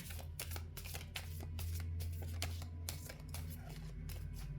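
Tarot cards are riffled and shuffled in quick, repeated bursts of crisp flicking, close by and fairly quiet over a low background hum.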